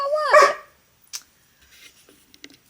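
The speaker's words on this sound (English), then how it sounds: "my dog is very upset that my dad." An upset dog barks and whimpers indoors in one short, close burst with rising and falling yelps, then fades to faint scattered household noises.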